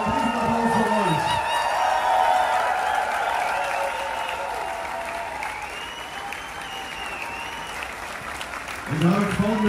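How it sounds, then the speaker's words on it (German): A festival crowd applauds loudly and continuously, with scattered cheers and whoops. Voices speak at the start and end of the ovation. "Ein riesen Applaus für euch."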